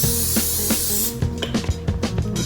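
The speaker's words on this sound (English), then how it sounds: "we're going to go ahead and spray our griddle with some non-stick spray" Non-stick cooking spray hisses from a can onto a griddle in one loud, steady burst. It then breaks off into a few short scraping and tapping sounds.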